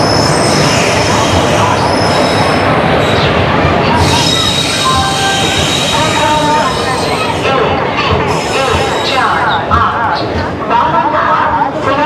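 The Uttarbanga Express passenger train stands at a station, and loud, dense rail noise fills the air with squealing wheels and metallic clatter, while voices talk nearby throughout.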